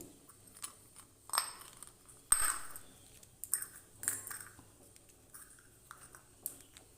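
Four or five dried biulir dal bori, black gram lentil dumplings, drop one by one into a pan with five-spice and dried chilli, giving scattered light clicks and taps against the metal, faint and close.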